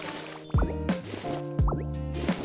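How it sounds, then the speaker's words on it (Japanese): Fountain water is collected in a Pokémon life-sim game, heard as two wet, squishy plops about a second apart over soft background music. "噴水の水は一旦保管。"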